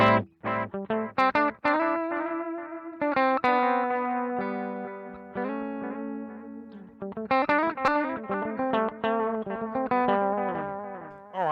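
An electric guitar plays a melodic line through a Sonicake Twiggy Blues pedal, each note trailing into repeating echoes from its delay, with a slightly distorted, chorus-tinged tone.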